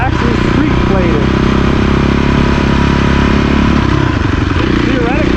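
Street-plated Cannondale dirt bike engine riding through a residential area, a loud, close, continuous buzzing drone with shifting revs, while a person talks over it.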